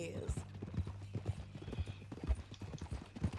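Horse hooves clip-clopping in a steady walking rhythm in the Red Dead Redemption 2 video game, with a brief whinny near the start and people talking over the hoofbeats.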